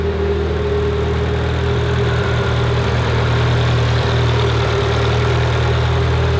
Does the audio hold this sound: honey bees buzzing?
no